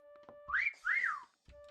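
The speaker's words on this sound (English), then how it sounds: "Oh, there's some whistles near here." Two rising-and-falling whistles in Disney Dreamlight Valley, close and clear, each about a third of a second long, with a faint steady tone running beneath.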